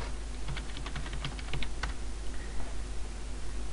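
Quick, light keystrokes tap on a computer keyboard, about a dozen clicks in a short burst, close and fairly quiet over a low steady hum.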